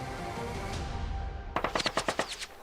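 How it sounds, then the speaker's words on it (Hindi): Gunfire recorded on a CCTV camera: after a stretch of muffled background hum, a rapid burst of about nine shots rings out in quick succession, fairly loud and slightly distant, with no voices. "तभी अचानक से गोली चलती है।"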